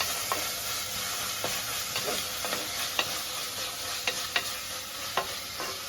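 Tomatoes sautéing with onions in a pan in a home kitchen, a steady sizzle broken by regular sharp scrapes of a spoon stirring, close and clear with no talking.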